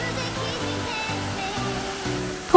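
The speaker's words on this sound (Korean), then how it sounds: "탐방로 산행 중에 보는 폭포는 이런 모습을 하고 있네요." A waterfall along a mountain pine forest trail in Daegwallyeong, a constant roar of falling water heard beneath music, with a brief louder bump at the end.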